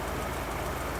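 A classic car with a 2100 carburetor idles steadily nearby, a continuous low engine rumble with no talk, running a little rich.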